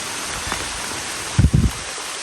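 Steady rain hisses and patters continuously, with a few dull thumps close by partway through.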